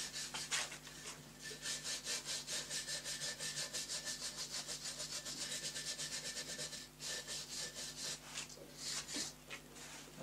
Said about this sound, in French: ce que je vais faire c'est que je vais passer un petit coup de brosse